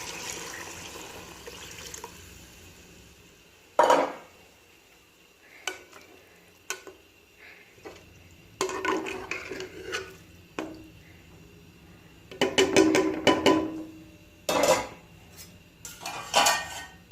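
Rice and water going into a cooking pot while making matar pulao, with scattered clinks of utensils against metal and splashy pouring bursts, close and moderately loud, no talking.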